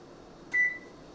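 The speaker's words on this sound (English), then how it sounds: "The timer was beeping." A single short electronic beep sounds once, clear and steady in pitch, against a quiet room.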